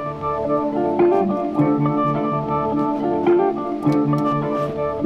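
A sustained, synth-like tone from a guitar rig synth plays a short melodic phrase with rich harmonics, steady and close, with no voices present.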